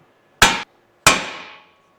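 Two sharp metallic hammer strikes ring out about half a second apart on a steel tie rod end of a Toyota Hilux steering rack, each leaving a short ringing decay in an otherwise quiet space.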